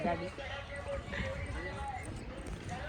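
Hooves of a horse cart clip-clop faintly at a steady pace at a fair distance, under a busy fairground crowd murmur and voices.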